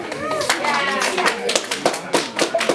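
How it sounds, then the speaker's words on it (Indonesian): Claps ring out in a dense, fairly close patter as an audience applauds quiz contestants at a children's Bible competition in Pajoreja village, Nagekeo, with people talking throughout. "Tepuk tangan dulu untuk Bintang Timur."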